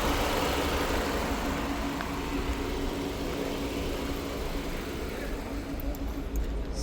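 A white Chevrolet Cobalt with 120,000 km on it, running on methane gas, idles at a car market with a steady, even engine hum and faint surrounding noise.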